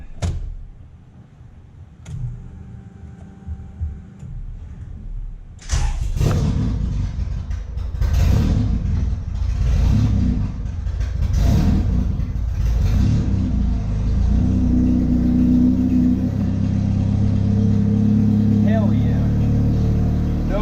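A Honda CRX Si engine cranks and fires after a few seconds of quiet, then idles roughly and revs in uneven pulses, loud and close, with a steady running drone.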